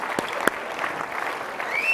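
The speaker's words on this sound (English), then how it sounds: "Big round of applause." An audience at the CPAC 2017 conference applauds, a dense wash of clapping at steady moderate loudness, with a couple of sharper claps near the start.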